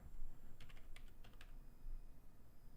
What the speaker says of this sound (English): I have to type those alerts in the chat room.